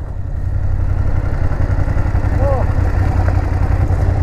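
A big motorcycle idles nearby on a rainy Nepal road, a loud, steady low rumble with a faint clatter, while a voice briefly chirps over it.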